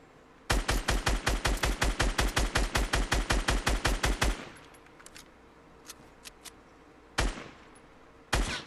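Rapid automatic gunfire in Fortnite Battle Royale, a burst of about twenty evenly spaced loud shots over four seconds, followed by quieter scattered clicks and two more single sharp shots near the end.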